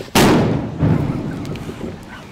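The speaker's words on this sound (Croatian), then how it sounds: "Eto ti šta su petarde." Firecrackers going off: one sharp, loud bang erupts near the start, then a rough, rumbling crackle trails away over the next two seconds. No voices are heard.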